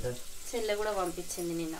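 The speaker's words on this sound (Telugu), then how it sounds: "ఆ సౌండ్ తాలింపు సౌండ్ ఘోరంగా వస్తుంది" Tempering in ghee sizzles in a frying pan in a village kitchen, a steady hiss sitting beneath a woman's close, clear talking.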